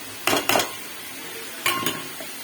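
A spoon scrapes and clinks twice against a pan of mutton keema sautéing with tomato and masala, two short pairs of metallic strokes over a quiet, faint background.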